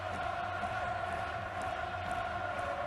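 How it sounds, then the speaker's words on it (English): A big football stadium crowd at an Asian Champions League final between Urawa Red Diamonds and Al Hilal keeps up a low, steady, distant roar of chanting. "And listen to this crowd"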